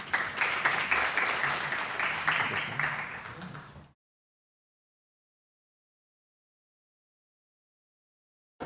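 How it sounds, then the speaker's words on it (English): Audience applause at an international symposium on Islamic psychology, a dense steady clapping for about four seconds that then cuts off to silence. "Rounds of applause."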